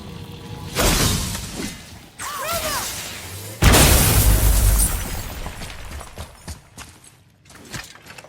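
Objects burst and shatter in God of War (2018) gameplay on PS5 with loud crashes and rumbling debris, including a whooshing swing and a brief high ringing tone, and the heaviest impact lands midway before the sound fades into lighter clatter.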